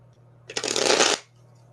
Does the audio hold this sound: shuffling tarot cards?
yes